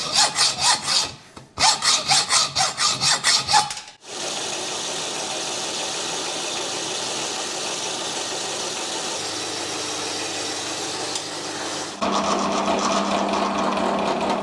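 A roller pin is sawn shorter. Fast, loud, rhythmic back-and-forth saw strokes are heard up close, then after a brief break a steady, harsh continuous cutting drone runs to the end.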